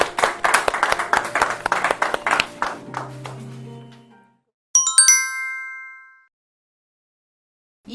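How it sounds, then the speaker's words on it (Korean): Participants at a church summer Bible school leaders' training session clap together to close the day, a quick rhythmic run of sharp, close hand claps that thins out over four seconds, followed by a bright chime ringing into silence. "우리 박수로 일과 마치도록 하겠습니다"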